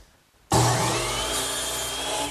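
A power saw squares the end of wooden leg blanks for a bedside table: after half a second of near quiet it starts abruptly into a loud, steady cutting whine that holds to the end.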